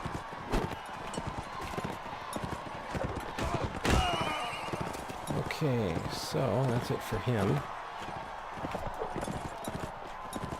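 Horse hooves clip-clop in a rapid, uneven rhythm during a castle siege in Mount & Blade: Warband, mixed with scattered battle noise while someone talks over them.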